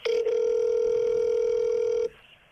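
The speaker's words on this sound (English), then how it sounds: "now I'm going to call Oxitec and ask about" A telephone line signal sounds: one steady, loud tone held for about two seconds after a brief opening blip, then cutting off to near silence, as when placing a call.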